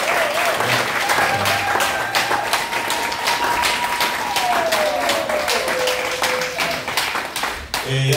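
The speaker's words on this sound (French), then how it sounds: "Si on peut applaudir d'abord pour lui." Sustained applause from an audience filling a hall during a political campaign event, dense and steady throughout, with a faint tonal whistle drifting underneath.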